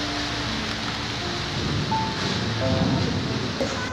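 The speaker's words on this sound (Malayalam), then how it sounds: "അപ്പൊ നന്നായിട്ട് മഴ പെയ്യുന്നു കേട്ടോ ഇവിടെ നല്ല മഴയാണ്" Heavy rain pouring down outdoors during a thunderstorm, a loud, dense, continuous wash of noise with no voices.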